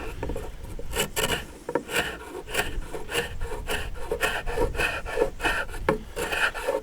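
A carbide scraper blade drags lacquer off oak timber in repeated rasping strokes, a steady scratchy rhythm up close with no talking.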